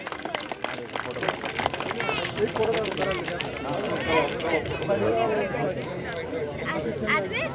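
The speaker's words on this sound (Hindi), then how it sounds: "एक बार जोरदार तालियों से स्वागत करें" Applause welcoming the chief guest at a Sawan fair in a residential society, scattered clapping mixed with crowd chatter and voices talking throughout, busy and fairly close.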